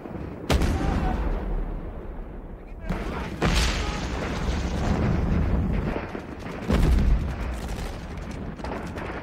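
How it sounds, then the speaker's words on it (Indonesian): Artillery fire in a war film, with deep booms and heavy blasts rolling under someone narrating. "Kapten Pritchett segera menyuruh skuad Lukas untuk bergerak menghindari artileri"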